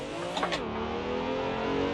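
A car in a racing simulator game accelerates into a drift, its engine giving a steady, revving drone that swells briefly early on, with no talk.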